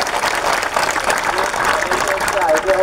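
Applause from a crowd at an outdoor protest gathering, a dense, steady clatter of many hands clapping at once, loud and continuous for a few seconds.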